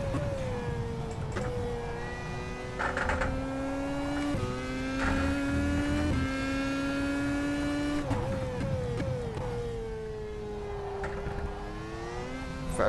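A Marussia Formula 1 car's engine drones at Silverstone in rFactor 2, a loud, continuous, high-pitched whine that rises and falls as the throttle is fed in slowly and the gears shift.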